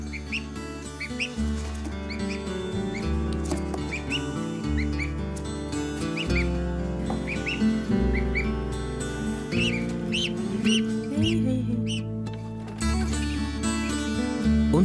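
A young gosling in a brooder gives repeated high, short squeaks and peeps at close range over a steady background with tonal hum.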